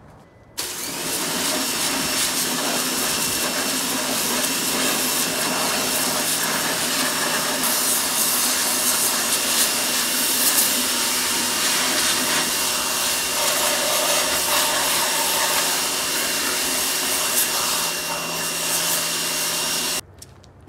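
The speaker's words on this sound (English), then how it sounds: "so we're going to go ahead and pressure wash these" A pressure washer sprays car wheels with a steady, loud, hissing roar that runs unbroken for about twenty seconds, starting and stopping abruptly.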